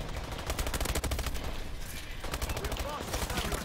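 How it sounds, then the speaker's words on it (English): A fully automatic shotgun fires in a video game in a continuous rapid stream of loud, dense blasts, with a brief lull in the middle before the firing resumes. "the fully automatic shotgun, is a piece of turd"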